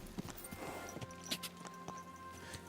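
A horse's hooves clip-clop in Kingdom Come Deliverance 2, a loose series of irregular, fairly close hoof strikes against a quiet game ambience.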